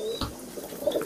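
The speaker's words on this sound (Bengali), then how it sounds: "এই একজোড়া গলালাল কবুতর" A pair of red-necked pigeons from a high-flying pigeon loft gives a brief, soft coo, close by and alone, with faint chirps around it.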